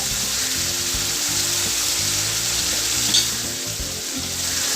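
Bitter melon and beef sauté in a hot pan, a steady close sizzle and fry running throughout with faint stirring clatter and no voices.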